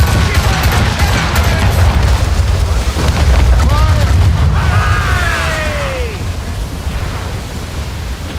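Ship cannons fire in the video game Assassin's Creed Rogue, deep booms and bursts rolling over a constant roar of sea and wind, with crew voices shouting orders over the battle.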